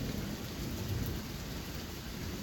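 A Tennessee thunderstorm brings steady, loud rain with a low, continuous rumble of thunder underneath, no voices present.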